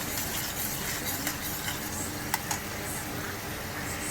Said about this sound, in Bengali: এবার এর মধ্যে সর্ষের যে জলটা এটাও দিয়ে দিলাম, দিয়ে আবার একটু কষাবো।